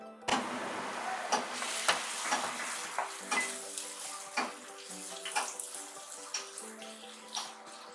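Garlic dropped into hot ghee in a pan and stirred, a soft sizzle under repeated clinks and scrapes of a spoon against the pot, close by with no talking.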